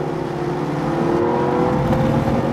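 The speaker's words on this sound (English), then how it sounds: "Look at that fantastic engine, listen to that." A Mercedes SLS AMG GT engine revs loud and near, a sustained throaty drone that builds slightly toward the end, heard alone without talk.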